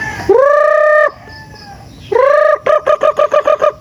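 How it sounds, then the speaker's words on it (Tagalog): Chickens call loudly and close by, two drawn-out crowing or squawking cries followed by a quick run of about eight sharp rhythmic clucks, with no voices over them. "Dami lang ng sisiw dito."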